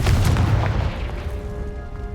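A Confringo spell explodes in Hogwarts Legacy gameplay with a heavy, booming blast that hits loud and rumbling at the start and then decays into a fading low roar.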